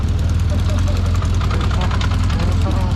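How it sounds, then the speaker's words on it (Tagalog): A 1979 motorcycle idles loud and close at night, its engine throbbing in a fast, steady, slightly knocking rhythm without a break. "1979 motorcycle."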